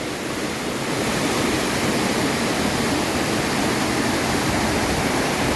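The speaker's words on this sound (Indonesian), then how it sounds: "Nih Curug Naga Biru nih. Seperti inilah curugnya. Alirannya lumayan deras, bro." Curug Naga Biru waterfall in Sukamakmur, Bogor, flowing strongly, a dense steady roar of falling water that fills the whole clip with no pauses or voices.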